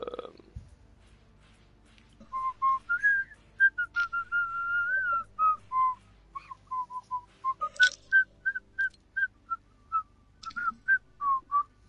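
One person whistles a melodic tune up close in a quiet room, with short bright notes and slides in a lively, uneven rhythm, after a brief breathy rustle at the start.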